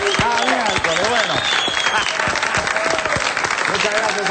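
A studio audience and crew applaud for a birthday on a live program, dense continuous clapping close and loud, with voices speaking over it throughout.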